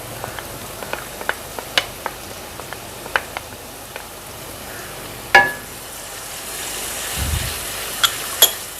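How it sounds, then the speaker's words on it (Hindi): Onion frying with ginger-garlic paste in a pan over medium heat, heard as a soft, low sizzle with scattered faint pops and crackles and an occasional louder clatter, with no voices. "अब इसको थोड़ा सा भुनेंगे 1 आध मिनट"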